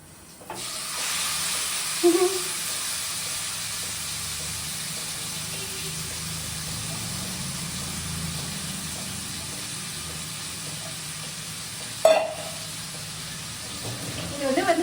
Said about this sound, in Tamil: அதை வந்து அப்படியே சேர்த்துக்கலாம் கொஞ்சம் தள்ளி நின்று சேர்க்கணும்